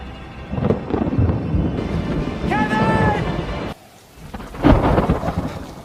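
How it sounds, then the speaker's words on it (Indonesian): Heavy rain pours through a forest at night, a steady loud hiss, with thunder rumbling underneath it and a voice speaking over part of it. "Setelah semalaman turun hujan dan hanya berteduh di bawah bebatuan"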